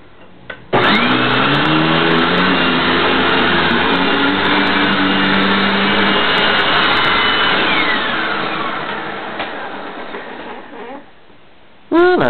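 A Hoover Wind Tunnel self-propelled upright vacuum cleaner switches on abruptly and drones loudly and steadily for about ten seconds, its whine shifting slightly in pitch before it shuts off and briefly restarts.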